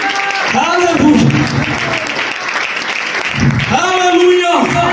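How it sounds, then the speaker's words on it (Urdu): A church congregation breaks into loud applause during a sermon on the Holy Spirit, steady clapping running throughout while a preacher's voice rises over it in bursts. "زوردار تالیاں"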